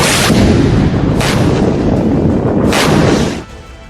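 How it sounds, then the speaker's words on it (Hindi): A missile barrage with repeated heavy explosions, several loud booming bursts roughly a second apart over a continuous rumbling roar that cuts off near the end. "हूथी फाइटर्स ने इजराइल को बर्बाद करने के लिए मिसाइलों की अंधाधुंध बौछार शुरू कर दी"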